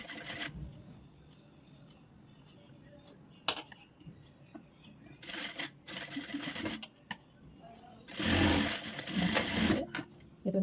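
A sewing machine stitches a back-hook blouse in several short runs, back-stitching at the start, its needle chattering in rapid bursts between pauses, close and moderately loud, with talking between runs.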